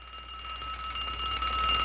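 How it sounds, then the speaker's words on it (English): An alarm rings out in a continuous metallic jangle, steady and fairly loud for the whole stretch, with no one speaking over it. "The alarm just went off in Earl J. Wagedorn's pants."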